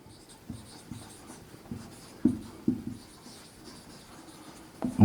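A marker or chalk writes on a board during a maths lesson, giving soft irregular scratches and taps, close and fairly quiet, with no speech over them.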